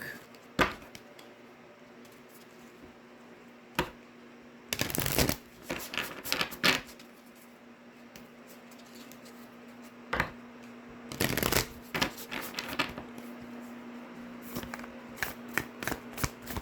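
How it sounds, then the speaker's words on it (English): A Sacred Traveler Oracle deck of cards is shuffled in two quick riffling bursts, followed by lighter card handling and soft taps against a quiet room background. "I'm going to pull a card from the Sacred Traveler Oracle deck."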